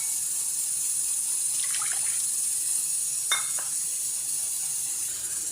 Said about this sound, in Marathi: आता इथे मी 2 वाट्या पाणी घेतलेलं आहे